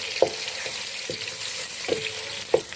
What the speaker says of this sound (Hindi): लहसुन, अदरक और हरी मिर्चें डाल लेंगे जो हमने कूट लिए थे, और इसको हम फ्राई करेंगे अच्छे से